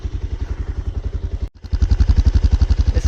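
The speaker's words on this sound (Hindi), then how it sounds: "इसकी गाइस साइलेंसर की आवाज़ कुछ इस टाइप की है" A Bajaj Pulsar 220 motorcycle engine revs hard with a rapid, throbbing exhaust pulse, dipping briefly midway before surging back louder and steady.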